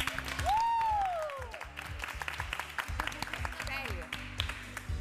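Studio audience on a televised dating show applauds in dedication to Vasilis: a steady wash of clapping under a thumping music beat, with a rising whistle and chatty voices over it.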